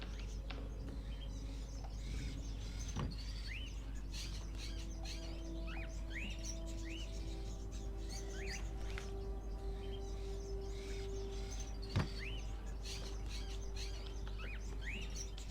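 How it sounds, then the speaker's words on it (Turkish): Birds chirp and tweet repeatedly in a video game, Fahrenheit Indigo Prophecy, many short high calls scattered over a steady low background hum, with a couple of faint knocks. "Tamam, kuşları besleyelim."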